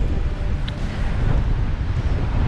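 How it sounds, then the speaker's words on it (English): Strong wind buffets the microphone on an open riverbank, a steady low roar and rumble with constant gusting pressure and no pauses, loud and close throughout. "There's a credible amount of wind just pushing up against the bank."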